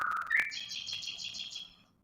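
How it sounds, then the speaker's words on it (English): A recording of forest ambience played back as a demo sound, with several bright bird chirps and a trilling call, fairly faint and clean, fading away toward the end. "let's say the audio is animals, bird, forest"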